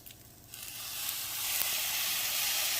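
Ketchup and soy sauce hit fried rice in an Always Pan with a sharp sizzle that swells to a steady, loud hiss and holds for a few seconds, no voices over it.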